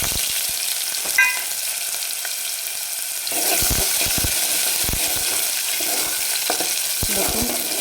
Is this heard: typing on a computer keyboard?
no